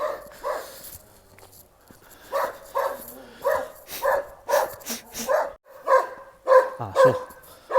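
After a quiet start, a big dog in the Czech Republic launches into a regular string of loud, close barks, roughly ten in quick succession and growing more forceful.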